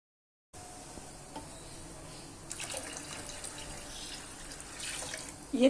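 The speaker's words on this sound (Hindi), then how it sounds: "ये 3 लीटर मैंने पानी डाल दिया है।" Water poured from a container into a cooking pot for haleem with wheat, rice and lentils, a soft continuous splashing and trickling that builds slightly louder toward the end, close and fairly quiet.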